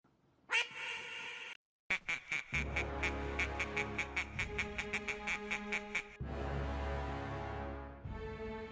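Duck quacking in a series of loud, rapid harsh calls close by, with a short gap near the start and a sustained noisy stretch toward the end, no talk over it.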